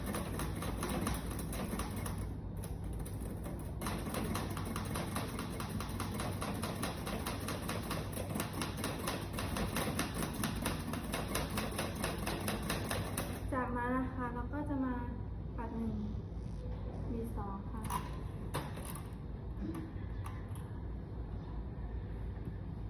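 A manual typewriter being typed on: rapid, even keystrikes clatter close and steady for about thirteen seconds, then sparse, scattered mechanical taps while someone speaks over them.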